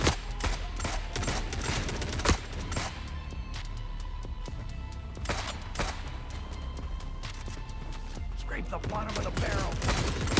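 Rapid bursts of gunfire in the video game The Forever Winter, loud irregular volleys of shots spread across the whole stretch, with someone talking over them.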